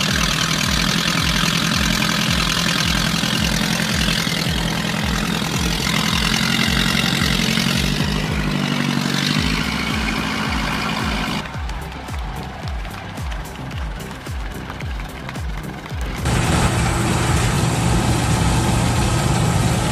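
A tractor's diesel engine runs steadily and loud throughout, a continuous low rumble with a rhythmic chugging pulse and some shifting mechanical clatter, no voices heard.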